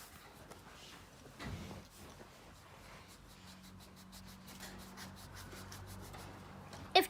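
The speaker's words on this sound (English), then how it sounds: "just get a big rubber like this and rub it out" Big rubber eraser scrubbing out pencil drawing on paper, a faint, steady rubbing texture throughout with a soft bump early on and a sharper scrape at the very end.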